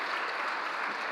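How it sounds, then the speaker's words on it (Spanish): An audience at a workplace safety conference claps steadily, a short, even burst of applause at moderate volume, without speech. "Muy amable, un aplauso,"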